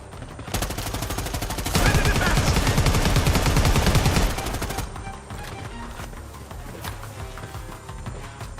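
Sustained automatic gunfire in Predator Hunting Grounds, a dense rapid burst that swells loud and close for a few seconds, then drops back to scattered shots and background combat noise, with no talk over it.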